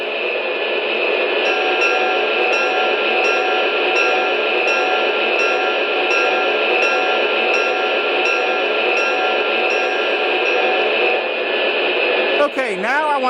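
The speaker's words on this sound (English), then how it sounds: "Now here's the bell." A bell from an MTH Union Pacific Veranda turbine model train set rings in a steady, evenly spaced pattern over a loud continuous engine drone, then a brief warbling sound cuts in near the end.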